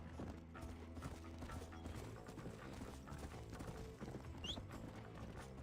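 Horse hooves clip-clop steadily and close in Red Dead Redemption, a rhythmic trot over layered game music and ambience, with a brief whinny-like cue partway through.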